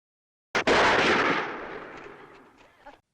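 A single heavy gunshot-like blast from a spy comic audio drama, a sharp loud crack followed by a long rumbling decay that fades over a couple of seconds.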